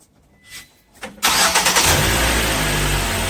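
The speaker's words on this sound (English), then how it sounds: "So I'm going to start my car." A car engine cranks briefly with a couple of soft clicks, then catches and roars into a loud, steady idle close by, with no talk.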